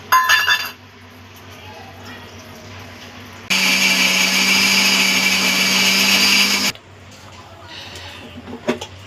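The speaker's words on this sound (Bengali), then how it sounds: "সর্ষে, লঙ্কা আর আদা, কাঁচা লঙ্কাও আছে, শুকনো লঙ্কাও আছে। তো এগুলোকে মিক্সিতেই বেটে নেব।" An electric mixer grinder whirs loudly for about three seconds, close by, grinding mustard seeds, green and dried chillies and ginger, with quieter kitchen clinks and handling before and after.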